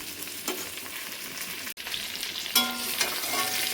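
Potatoes fry in a pan for a tangra fish curry, a close, steady sizzle with stirring scrapes and a brief pause before the hiss swells louder.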